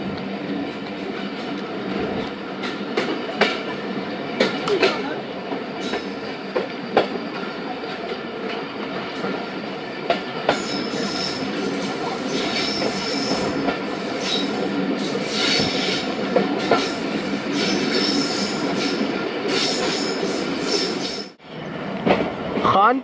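The Tezgam Express rolls along the rails in Pakistan near Khanpur, with loud continuous rumble, rhythmic wheel clatter and squeal heard from on board, and voices talking over it.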